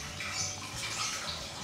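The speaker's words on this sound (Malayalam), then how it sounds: "വെള്ളം ആവശ്യത്തിന് ഒഴിക്കാം." Water pours into lentils for dal in a pressure cooker, a brief soft splashing trickle, quiet and close, with no talk.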